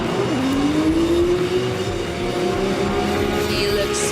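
A Nissan Silvia S14 drift car runs at a drift event, its engine a loud, continuous droning note that dips and then climbs steadily in pitch against crowd and track noise.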